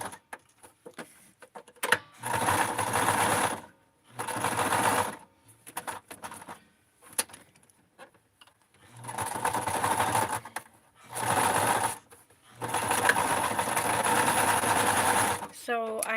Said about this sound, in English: And now I'm just going to go ahead and sew this.